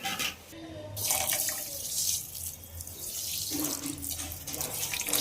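Water poured from a vessel into sugar in a pan, a steady close splashing trickle with a short pause near the start.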